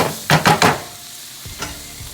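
Taco meat frying in a pan as its excess liquid cooks off, three quick scraping stirs followed by a low steady sizzle and another lighter scrape, close by.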